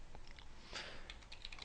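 Quiet, rapid clicking of computer keyboard keys as commands are typed into a Windows command prompt while setting up a bootable USB drive, faint and close with no talking.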